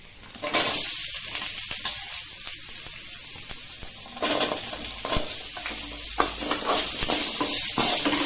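Red chilli, garlic and small and big onions fry and sizzle in hot oil in a pan, a steady loud hiss with stirring scrapes, briefly dipping and then picking up again.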